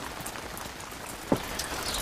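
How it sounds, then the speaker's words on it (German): Steady rain falls on a surface outdoors on a Siberian morning, a continuous soft patter with one sharper drop or splash standing out partway through; no voices. "Am nächsten Morgen erinnert der Regen daran, dass nicht alles immer nur einfach sein wird."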